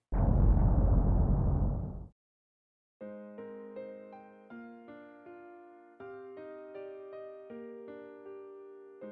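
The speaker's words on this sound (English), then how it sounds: "The sound of an explosion." A distant explosion in a visual novel game, a loud broadband blast of about two seconds that cuts off abruptly and is followed by silence, then a soft piano melody.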